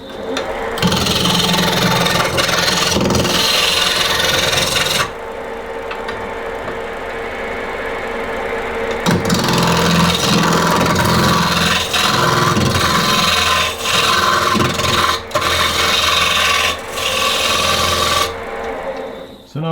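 Wood lathe turning a bagpipe chanter with a chisel used skew-style, giving a continuous loud scraping and rasping hiss of cutting wood over the motor's hum, with brief pauses and a voice talking at moments.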